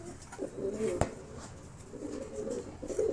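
Fantail pigeons cooing softly at close range, low murmuring coos in two spaced bursts with a sharp click between them, over quiet background noise.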